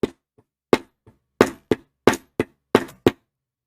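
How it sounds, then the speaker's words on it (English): Leathercraft hammering on leather for a card holder prototype: about nine sharp, separate knocking strikes in an uneven rhythm, close and loud against silence. "Sometimes I think I need to get like a bigger hammer."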